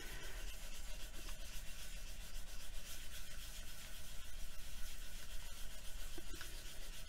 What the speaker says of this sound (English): So let's just give it a burnish down.